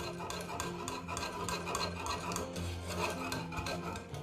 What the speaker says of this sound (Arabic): غادي نقص شويه من العافيه وغادي نحرك حتى نذوب الفرماج مزيان.